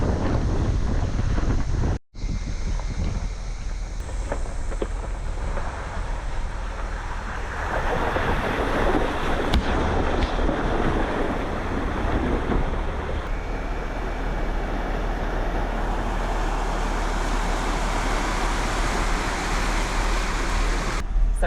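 A Jeep rolling along a dirt road toward Davies Creek in Far North Queensland, heard as a continuous broadband rumble and wind roar from inside or near the vehicle, with one brief dropout early on.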